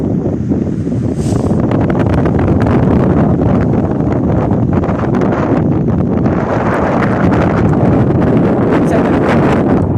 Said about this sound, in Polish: Padówka która daje nam porywy wiatru